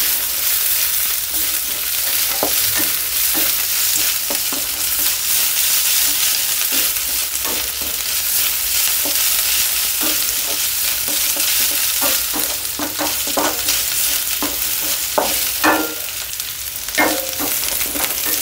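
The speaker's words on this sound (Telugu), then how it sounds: "ఇప్పుడు వీటిని హై ఫ్లేమ్లో పెట్టుకొని టోస్ట్ చేసుకోండి" Carrot, beans and cabbage stir-frying over a high flame, with a continuous loud sizzle broken by frequent scraping stir strokes throughout, close up and with no voices.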